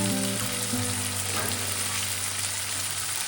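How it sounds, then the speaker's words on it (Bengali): Fried paneer being stirred in a hot pan, with a steady, even sizzle of frying throughout and a faint scrape of the spoon partway, close and continuous with no talking. "ভালো করে নাড়াচাড়া করে নেব পনিরগুলো দেওয়ার পরে।"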